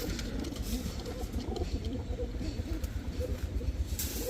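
Female pigeons coo softly and repeatedly over a steady low rumble of background noise, with no one speaking.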